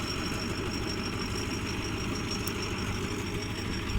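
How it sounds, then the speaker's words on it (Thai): A Hino V8 engine on a tilling truck working a rice paddy roars steadily and loudly throughout, a constant low rumble with a faint high whine above it. "เร่งเครื่องมันแรงเลยพี่น้อง"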